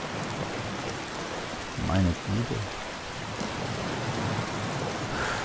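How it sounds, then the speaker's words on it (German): Steady rain falling in the video game The Elder Scrolls V: Skyrim, a dense, even hiss throughout, briefly joined by someone speaking in German. "aus dem Regen hier raus."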